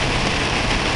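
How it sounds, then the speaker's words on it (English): Steady rain falling harder during a hike on Mt Adams, a dense, even hiss of drops filling the whole moment, close and continuous with no voices. "Yeah, it's raining now. A little harder now, James."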